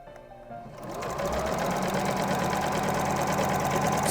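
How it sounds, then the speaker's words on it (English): A sewing machine stitches an apron pocket, its fast, even mechanical whir starting softly and then running steady and close for several seconds, with no talking. "Sew to the top of the pocket"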